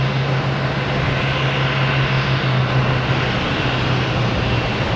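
An Air Canada Airbus A220 arriving from Toronto at Boston Logan Airport makes a steady, loud jet engine drone with a sustained low hum, constant across the whole stretch, with no speech.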